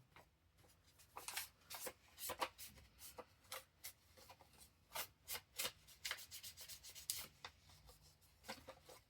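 Printed paper being crumpled and rubbed by hand during a bookpage pocket craft, giving soft, scratchy rustles in uneven bursts, close and fairly quiet, with no talking.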